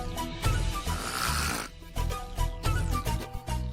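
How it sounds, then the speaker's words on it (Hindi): A sleeping woman snores loudly and heavily, with rough, rattling breaths repeating in quick succession close up, sounding coarse and grunting. "जितने दहाड़े मार मार के खर्राटे ले रही है"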